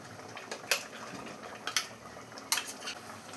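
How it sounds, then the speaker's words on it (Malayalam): Ground coconut paste going into a pot of boiling onion sambar, with a few sharp metallic clinks and scrapes of a spoon against the pot over a faint bubbling background, no talking. "ഇപ്പോൾ തേങ്ങ അരച്ചതും കൂടെ ഒഴിച്ചു കൊടുത്തിട്ടുണ്ട്"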